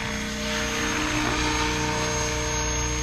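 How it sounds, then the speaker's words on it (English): Radio-controlled model helicopter on its maiden flight hovering in light wind, a steady close whine of rotor and motor holding even and loud for the whole stretch. "Helicopter's still feeling great."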